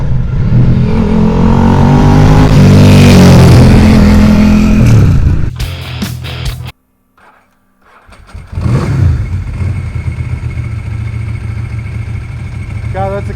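A 1993 Ducati Paso water-cooled fuel-injected V-twin and a 1996 Moto Guzzi air-cooled carbureted motorcycle revving loudly up close, then cutting to near silence before a second engine starts and settles into a throbbing idle.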